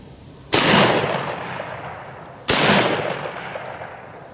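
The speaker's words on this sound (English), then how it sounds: "So I'm going to shoot bottom first, top, bottom. Hopefully it'll go over in three." Two loud shotgun blasts about two seconds apart at a steel spinner target on a shooting range, each a sharp crack followed by a ringing decay, with no talk.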